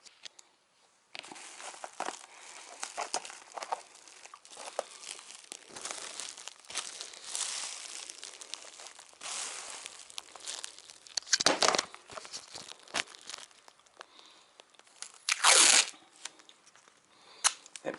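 Plastic sheeting crinkles and crumples in irregular bursts while being wrapped and taped around a keyboard, close and fairly quiet, with a sharper tape-tearing rip near the end.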